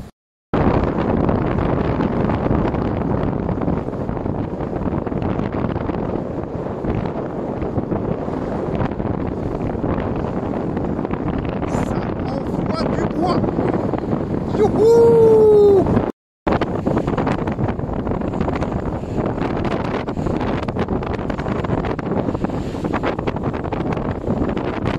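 Wind roars steadily and loudly across a sailing boat on its way to the finish, a dense rushing noise that never lets up except for a brief cut near the end, with a thin whistling tone rising just before it.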